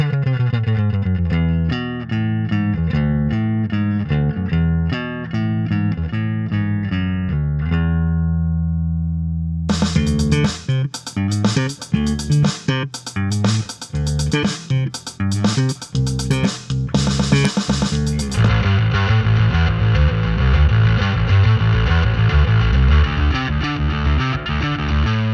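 Distorted, effected bass tones from a Sonicake Matribox multi-effects guitar pedal, played in riffs and sustained notes, loud and upfront, changing character several times with no voices.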